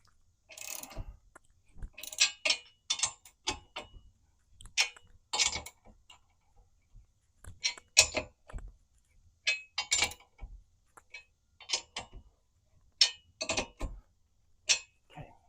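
A ratchet cranks down nylock nuts on a tire carrier mounted to a ladder, making clusters of sharp metallic clicks and creaks up close, separated by short quiet gaps.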